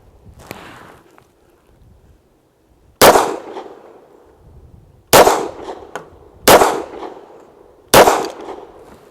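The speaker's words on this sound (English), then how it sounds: "That's just a very nice shooting pistol." Rock Island Armory Rock Ultra HC 10mm pistol fires four sharp, loud shots at irregular intervals of roughly one to two seconds, each with a short ringing decay, after a faint lead-in and some handling noise.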